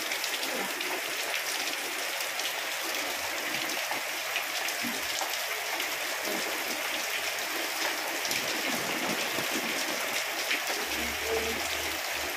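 Steady rain pours down as a dense, continuous hiss, with no voices and little change throughout.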